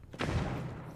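Burst of gunfire in the video game Rainbow Six Siege, a short rapid volley that starts abruptly and sustains for under a second at moderate, slightly distant level.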